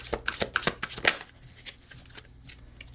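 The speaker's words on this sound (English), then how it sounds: "I'm only just shuffling" A tarot deck shuffled by hand at close range: a quick run of crisp riffling snaps and flutters, then softer, sparser card slides as the shuffle tapers off, with no talking.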